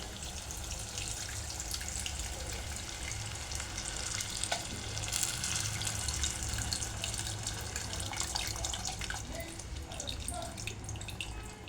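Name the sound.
tamarind pulp poured into cooking curry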